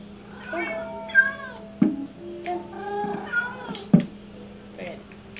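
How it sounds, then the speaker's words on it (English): A cat meows repeatedly in a block-building video game, several drawn-out tonal meows with a couple of sharp clicks, heard close over a steady background hum. "What's my cat doing in here? This is my cat."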